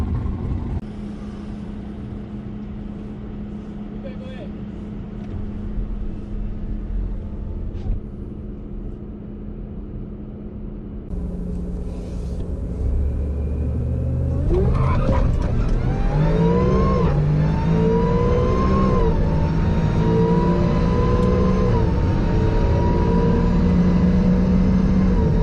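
A 2019 Ford F150 pickup on a quarter-mile drag strip idles with a low rumble, then the engine roars loudly as it accelerates hard, pitch climbing through several gear shifts for a long sustained run.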